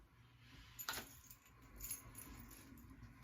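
House keys jangle close by in two short metallic bursts while a 2020 13-inch MacBook Pro is being unboxed, with a low background hum and no talking.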